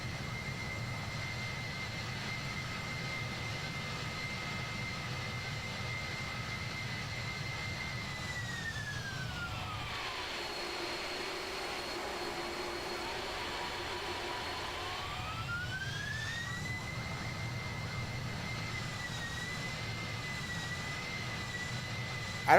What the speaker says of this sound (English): I don't see why the engines are revving up and down like that